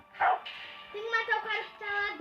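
A dog in a haunted Christmas video game barks and whimpers, a sharp bark followed by drawn-out whining yelps, close and clear without speech.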